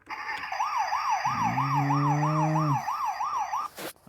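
A toy ambulance gives off a loud electronic wailing siren that sweeps up and down steadily and alone, with a brief buzzy horn-like tone joining in the middle before the siren cuts off near the end.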